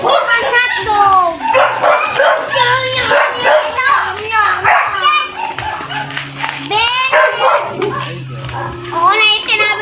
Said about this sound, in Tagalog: Pati aso ang ingay.